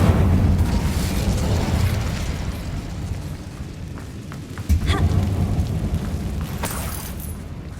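The Incendio fire spell in Hogwarts Legacy, cast inside a tomb-like mine, unleashes a loud, continuous roaring whoosh of flame with a brief burst midway, sustained throughout.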